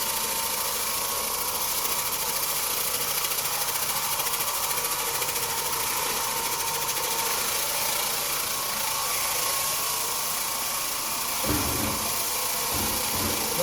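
A 12-inch Oreck Orbiter floor machine runs with a continuous close mechanical drone, and a few low thumps break in near the end as it is pushed back and forth.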